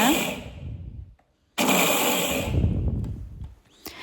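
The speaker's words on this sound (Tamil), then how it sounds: "நான் வந்து மிக்ஸி ஜாரில் போட்டு சும்மா 2 தடவை பல்ஸ் மோடு மட்டும் விட்டு எடுத்துக்கிறேங்க" A mixer grinder pulsing rice roars in two short pulses separated by a brief silence, loud and close, with a faint clatter as it winds down.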